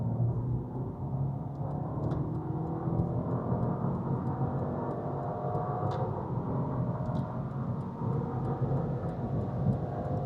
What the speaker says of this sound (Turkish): Bir hızlanma testi daha yapalım. Dip gaz yapıyorum.